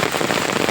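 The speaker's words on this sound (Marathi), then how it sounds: "खूप वेगाचा पाऊस वगैरे लागला आहे" Heavy monsoon rain pours steadily on fields and a road in a village, a dense continuous hiss of drops hitting surfaces, loud and close with no talk.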